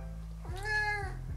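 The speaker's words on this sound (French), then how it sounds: "je vous présente mon chat, il s'appelle Nesquik" A cat held in someone's arms gives one clear, drawn-out meow with a rising then falling pitch over a low steady hum, close to the listener, with no talking.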